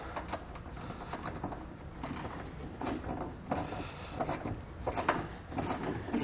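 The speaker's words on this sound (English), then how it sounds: "we'll take a 10mm socket, tighten down that factory bolt there, and then we'll take an 11mm socket and we'll tighten down the carriage bolt" A socket wrench ratchets in quick, repeated bursts of clicking as bolts are tightened on a Curt trailer hitch receiver bracket fitted to a 2020 Mazda MX-5 Miata, close up and fairly quiet.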